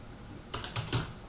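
A few quick keystrokes on a computer keyboard, about four distinct taps close together, clear against quiet room tone while an email subject line is typed.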